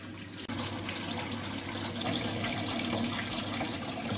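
Water gushes steadily from a hose and tap while a home heating radiator is flushed, a continuous close rushing flow that starts abruptly and keeps going without talk.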